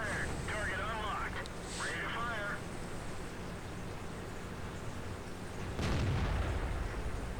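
Artillery fire in the World of Tanks video game: a heavy boom lands near the end, over continuous battle noise, while a commentator talks throughout.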